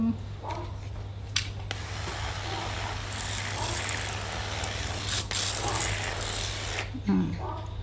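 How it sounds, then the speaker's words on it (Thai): Several hissing bursts of a spray bottle spritzing water onto sown anthurium seeds, fairly close, with brief pauses between sprays over a low steady hum. "เราสเปรย์น้ำให้ชุ่มนิดนึง"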